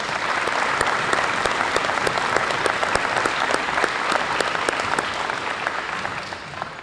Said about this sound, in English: Let's give our coaches, not only our head coaches, but all of them that work, whether they're volunteer coaches or stipend coaches, a nice round of applause